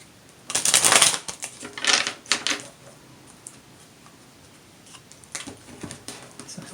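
A large, unwieldy tarot deck is shuffled by hand in a few quick bursts of riffling and slapping cards, loudest near the start, then quieter rustles and taps after a short pause.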